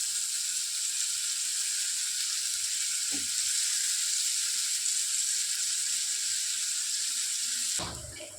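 Tomato and garlic frying in a pan give a loud, continuous close-up sizzle, with a brief clink partway through and a louder clatter near the end.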